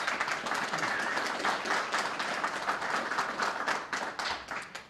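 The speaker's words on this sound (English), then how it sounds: "So please, round of applause." An event audience gives a sustained round of applause, many hands clapping densely and evenly before the sound starts to fade near the end.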